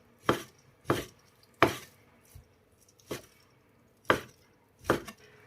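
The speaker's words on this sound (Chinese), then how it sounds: "再给它切成小块。" A kitchen knife chops pork from the front leg or shoulder into small pieces on a board, six or seven sharp separate strikes spaced about a second apart, with no talking.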